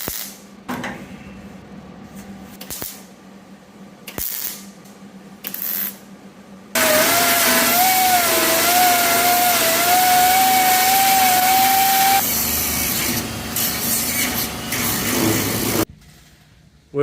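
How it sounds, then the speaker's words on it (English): A belt sander grinds rust off the roof of a car, running steadily for about nine seconds with a rising and falling whine, close and loud, after a few short bursts of quieter work noise. "I'm going to take the belt sander and sand those two spots out to where there's no rust"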